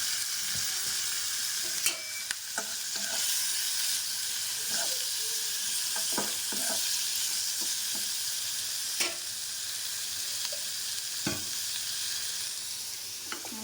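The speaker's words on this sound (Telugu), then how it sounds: "ఇది పండు మిరపకాయలు వేసిన అనమాట" Ripe red and green chillies fry in hot oil with a steady crackling sizzle, while scattered clinks and scrapes of a spoon stirring the pan sound close by.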